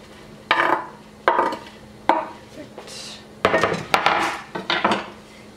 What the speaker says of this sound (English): We're gonna add the tomatoes.